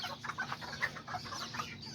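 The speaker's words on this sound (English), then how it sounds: "There's all the chickens" Small backyard chickens, including silkies, Aztecas and Seramas, cluck repeatedly in a busy, overlapping chorus close by, with no talking.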